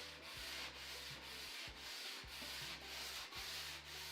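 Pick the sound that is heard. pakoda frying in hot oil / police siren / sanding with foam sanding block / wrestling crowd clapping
sanding with foam sanding block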